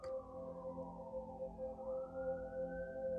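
A siren wails steadily in the distance, its tone holding then slowly rising, with a low background rumble underneath and no voices.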